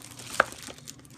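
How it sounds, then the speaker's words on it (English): Plastic sleeve around a Corsair K55 RGB membrane keyboard crinkling during unboxing: a single sharp rustle near the start, then quiet handling noise. "the keyboard's in a plastic sleeve like the box was as well"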